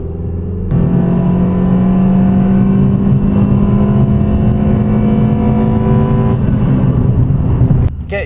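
A Renault Twingo RS engine revs hard and holds a loud, steady high drone for several seconds before cutting off, close and alone with no talking.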